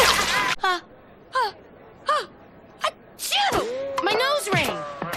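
Repeated human sneezes in a compilation, several sharp separate bursts with gasping intakes, followed by moaning vocal sounds toward the end.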